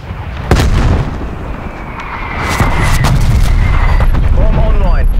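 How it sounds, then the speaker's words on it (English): Artillery strike in Black Ops Cold War: loud, dense booms and blasts that swell into a sustained rumbling barrage, with a voice speaking briefly over the din. "Hostile artillery targeting active."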